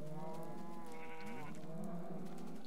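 Cows in the Minecraft video game letting out a wavering, drawn-out bleating moo, loud and close with nothing else over it.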